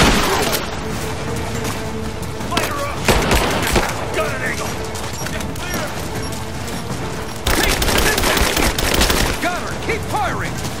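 Sustained gunfire in the video game Rise of the Tomb Raider: rapid automatic bursts and heavy booms crackle loudly and almost without pause, with shouted voices mixed in among the shots.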